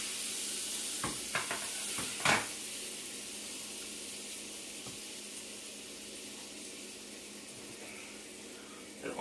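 A dry-aged ribeye sears in a ripping hot pan with butter, giving a steady close sizzle with a few sharp pops and crackles near the start that then settles into an even hiss.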